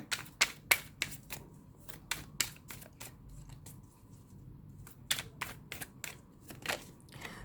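Tarot cards are handled and laid out one by one during a Thai love reading, giving irregular sharp flicks and soft slaps of card stock close by, with no talking.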